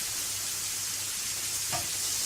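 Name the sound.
onions simmering and sizzling in a pan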